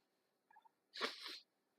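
A single close, sharp sneeze from someone with a cold bursts out after a soft, faint catch of breath, then silence.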